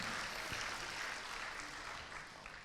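A church congregation applauds during an online Sunday worship service, a brief, fairly faint burst of dense clapping that tapers off toward the end.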